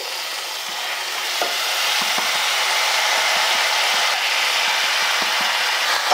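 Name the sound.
frying boiled banana flower with spices and gram in pan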